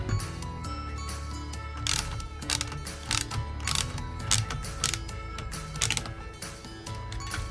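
Metal clock parts click and clatter as a large plate is fitted onto a Telechron GE Dorchester clock movement, with irregular close taps and ratcheting knocks over a steady background hum.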